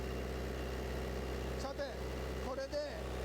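A small engine-driven generator running steadily as a low continuous hum throughout, with a voice speaking over it.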